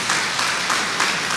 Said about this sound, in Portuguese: uma salva de palmas de Jesus, maravilhoso